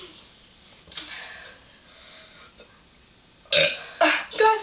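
Loud, close burps erupt in quick succession near the end, three guttural belches after a stretch of quiet breathing and faint movement.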